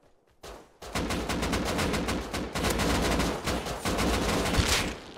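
Rapid automatic gunfire from the survival game Rust, long sustained bursts of loud, closely spaced shots after a brief quiet start, with overlapping weapons firing almost without pause.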